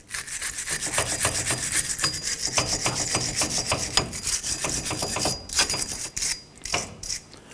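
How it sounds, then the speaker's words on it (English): A bristle brush scrubs the face of a 1997-2006 Jeep Wrangler rear axle hub during a drum brake job, making quick rhythmic scratchy strokes close to the mic with no talking. "Go ahead and go around the face of this axle hub face and clean this up"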